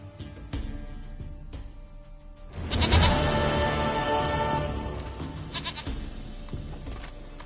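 A goat bleats in The Witcher 3, a loud wavering cry near the middle, surrounded by game ambience and a few softer clicks and shuffles.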